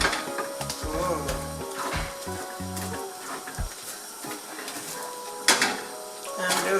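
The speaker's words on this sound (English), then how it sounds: "I'm just gonna keep stirring" Thick plantain fufu being stirred into ofe oha in a cooking pot, giving soft scraping and clunking spoon-against-pot sounds in an uneven rhythm, with a few sharper knocks and a low background hum.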